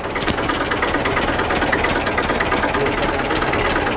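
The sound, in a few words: restored tractor chain-drive engine running after starting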